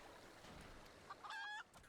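A rooster in Final Fantasy XIV gives a couple of short clucks, then a louder, drawn-out tonal call, heard alone over a soft background hum.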